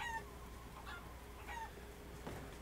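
Chickens clucking in the video game Resident Evil Village, a few short soft clucks scattered over a quiet background.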